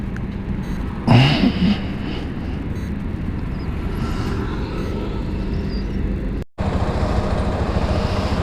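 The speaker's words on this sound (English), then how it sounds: "I'll just show you the quick shifter function after this." A 2021 KTM 390 Adventure motorcycle under way, its engine a steady loud drone with wind rush, one brief sharper burst near the start and a momentary dropout later.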